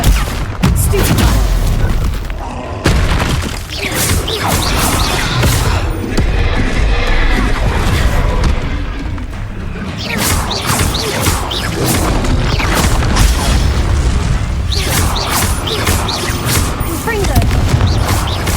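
Repeated spell explosions from the Confringo fire spell in the Hogwarts Legacy game, loud blasts and crashes within dense combat noise, with a voice calling out under the bursts.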